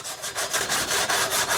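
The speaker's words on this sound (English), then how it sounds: "when you use this sanding pad, you're taking off" A sanding pad is rubbed over painted wood in quick back-and-forth strokes, giving a steady, close, rasping scrape with a regular rhythm and no talking.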